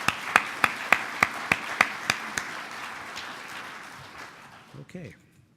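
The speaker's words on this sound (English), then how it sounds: "So, please, another round of applause for all of our sponsors for the 2017 concert." Audience applause for sponsors at the League of Oregon Cities annual conference opening ceremony, beginning with a series of sharp, evenly spaced claps that spread into broad sustained clapping, then fade out with a voice near the end.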